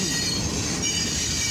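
A long eastbound mixed freight train carrying grain, rail and steel passes close by on the main track at about 29 mph, with a continuous loud rumble and high-pitched squeal of wheels on rail.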